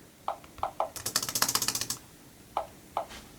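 Touchpad clicks on a Surface RT tablet played as sharp synthetic ticks through its speakers, a few separate clicks and then a rapid rattling burst of them, close and fairly quiet with no talking.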